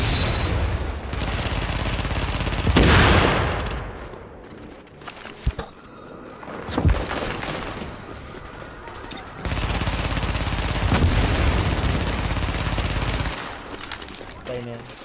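Gunfire erupts in the video game The Division, sustained automatic bursts and sharp shots coming from behind the player, loud and dense with brief lulls between volleys.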